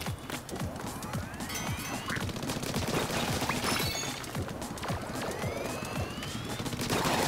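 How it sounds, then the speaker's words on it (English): A Gatling gun in Splatoon 2 fires a dense, unbroken stream of rapid shots, loud and steady throughout, with thin rising whistles over the rattle. "Heck yeah, it's the Gatling gun."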